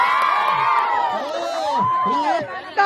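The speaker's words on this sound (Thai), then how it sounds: "กองเชียร์เยอะมากเลยนะคะ" Crowd of spectators cheering and shouting at a Karen New Year folk games event, excited voices and children's shouts rising and falling continuously, fairly loud and close, with a sharp burst near the end.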